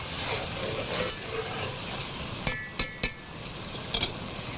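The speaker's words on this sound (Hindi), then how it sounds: "थोड़ी सी और हो जाए भुनाई" Chicken and potato curry masala roasting in a pan gives a steady, close sizzle, with a few sharp spoon clinks and scrapes from stirring near the end.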